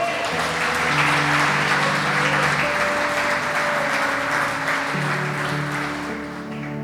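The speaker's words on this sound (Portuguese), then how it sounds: "Quem recebe, aplaude o nome do Senhor." A church congregation claps loudly and steadily during a sermon, with sustained organ or keyboard chords underneath, and the applause tapers toward the end.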